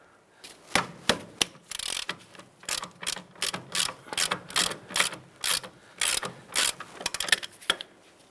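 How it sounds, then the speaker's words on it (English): A 21mm socket on a ratchet loosens the upper control arm bolt on a 2002-2007 Jeep Liberty, a fast run of sharp clicking pawl bursts in an uneven rhythm, close and clear, with no talking. "Using a 21mm socket, let's go ahead and loosen the upper control arm bolt here."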